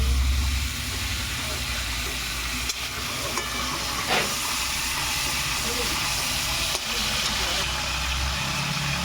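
Chili tempering spitting in hot oil in a home kitchen gives a loud, steady sizzling hiss that fills the whole stretch, with a low rumble underneath and a couple of brief crackling pops.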